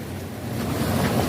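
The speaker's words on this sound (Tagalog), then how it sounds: "Andito po tayo sa dagat." Surf breaking along a seashore, a steady broad wash of waves that swells slightly louder toward the end, with wind buffeting the microphone and no voices.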